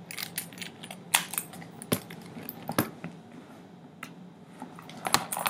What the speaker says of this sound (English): I have my keys, which I only have two keys here